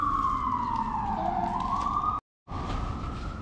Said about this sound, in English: there's the sirens in the background.